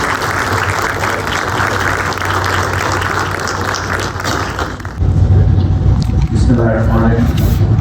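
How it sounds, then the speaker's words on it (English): An audience at a university conference on STEM claps in a dense, loud wash of applause for a few seconds before the sound shifts abruptly to a different, noisier setting with speech. "please give him a big round of applause"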